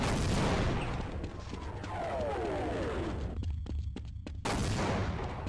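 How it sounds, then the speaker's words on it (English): Airstrike in the video game Half-Life: loud, dense rumbling blasts and crackling gunfire-like bursts, with a whistling sweep in the middle, a brief drop to near silence, then another heavy roar. "Airstrike's coming in."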